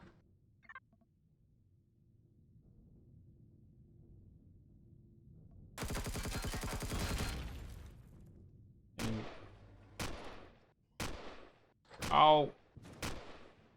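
Muffled gunfire through a wall in the video game Empyrion Galactic Survival at a stealth outpost, a dense burst of rapid shots followed by several separate sharp bangs, with a brief startled exclamation from a player.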